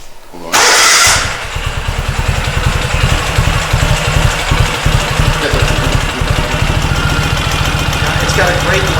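A 2017 Ural Gear Up motorcycle engine with a loud, deeper-than-stock exhaust starts with a sharp burst, then idles loudly with a deep, throbbing exhaust pulse, close by and steady.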